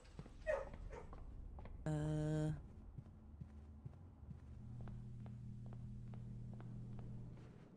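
Dogs in the video game Blue Prince give a short yelp and then a brief, tonal whimpering whine, followed by a low steady hum with soft footstep-like taps.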